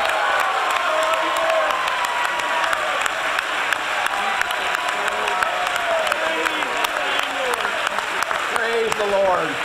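Steady applause from a church congregation, many hands clapping with some cheers and whoops mixed in, while a voice speaks over the crowd throughout.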